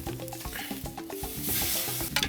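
Lamb searing over a charcoal grill, a bright sizzle that swells midway, with rhythmic scraping and clinking knocks of a utensil close by.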